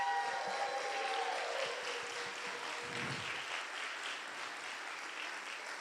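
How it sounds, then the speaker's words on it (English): A church congregation applauding during a Sunday celebration service, a steady broad wash of clapping that fills the room and holds at an even level from start to finish, with no voices over it. "So let's send Reverend John, maybe give him applause"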